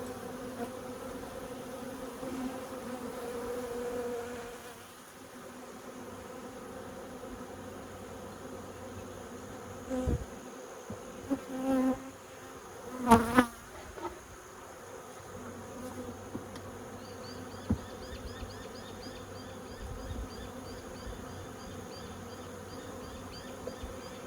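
Honey bees buzz steadily around an open hive, a dense insect drone with a few louder passes close by and brief knocks mixed in.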